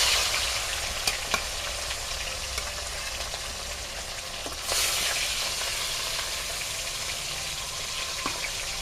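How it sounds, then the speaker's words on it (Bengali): Fish frying in hot oil in a covered pan on a village stove gives a continuous close sizzle, briefly louder midway, with occasional light clicks and no voices. "মাছ দিয়ে দেবো, মাছটা ভেজে নেবো"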